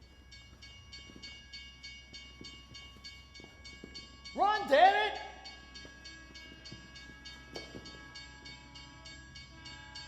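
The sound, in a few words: train approaching and passing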